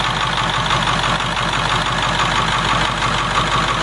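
A swapped-in 7.3 IDI diesel idles steadily in a 1989 International S1600 truck, a loud, close, even clatter and rumble with no talking.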